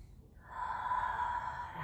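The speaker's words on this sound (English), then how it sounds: "Inhale completely." A person takes one long, deep inhale during a restorative breathing exercise. The airy, steady breath begins after a short pause and holds close and fairly soft to the end, with no speech.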